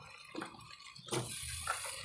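A glass of water is poured into a pan of fried cauliflower, giving a brief splash and sizzle followed by a steady hiss.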